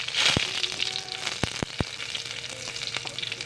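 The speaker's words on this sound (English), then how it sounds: "Cook pork until it turns brown." Pork browning in hot oil in a pan for an ampalaya dish, a steady soft sizzle broken by several sharp pops and spatters, close and alone.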